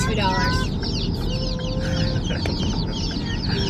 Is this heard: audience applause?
no